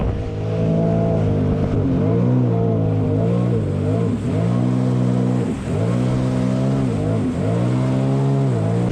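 A tuned Sea-Doo Spark Trixx personal watercraft engine drones loudly and close, its pitch rising and falling through repeated rev dips and surges, with no talking.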